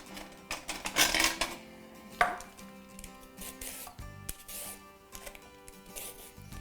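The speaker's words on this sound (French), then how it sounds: "éplucher une carotte" A carrot being peeled by hand in a home kitchen while onion and garlic sit chopped nearby, giving quick scraping strokes in uneven bursts, fairly close and moderately loud, with no talking over them.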